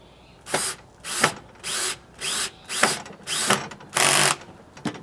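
A cordless power drill drives a self-tapping screw into a Solera slider topper awning mount, with seven short whirring bursts separated by pauses, the last one longest, close and loud with no talking.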